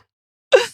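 A single short sneeze bursts out after half a second of silence, loud and close, then trails off quickly.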